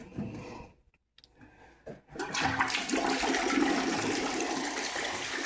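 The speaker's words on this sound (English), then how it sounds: "Toilet flushes." Toilet flushing in a small house bathroom, a brief clatter of the handle and valve, then a loud, steady rush of swirling water that fills the rest of the clip, close and alone.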